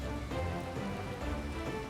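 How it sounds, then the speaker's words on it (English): Steady rain falls in the video game Final Fantasy XIV, a continuous dense patter with no gaps, moderately loud and heard alone without talk. "I put the straw hat on because I figured it was, it's raining"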